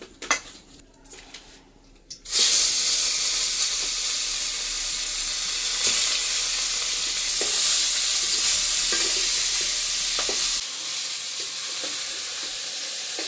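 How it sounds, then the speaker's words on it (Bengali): After a brief quiet moment, a loud, steady sizzle of tilapia frying in hot mustard oil bursts in and holds, then cuts off abruptly near the end. "এখন আমি কিছু সরিষার তেল ঢেলে দেব মাছ ভাজার জন্য"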